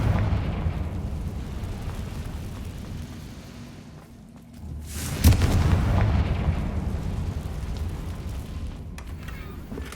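The Confringo blasting spell in Hogwarts Legacy goes off as one sharp burst midway, followed by a rumbling boom that fades slowly over an ambient game background.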